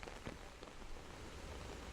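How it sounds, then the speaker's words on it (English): Light rain patters softly and continuously, small drops ticking on a surface with a steady faint hiss and no voices. "tiny raindrops fall"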